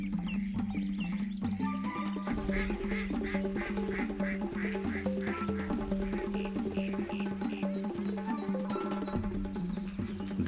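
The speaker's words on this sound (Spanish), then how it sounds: "Los patos son las aves más representativas y abundantes de los humedales." Many ducks quack in a dense, continuous chorus on a jungle lagoon, with calls overlapping from near and far.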